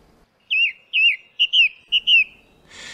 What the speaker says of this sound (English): The gorgeous blackbird can be heard just about anywhere, rich, unhurried and melodious.